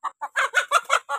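A rooster on a Konkan village homestead clucks close by in seven short, evenly spaced bursts, with no one talking.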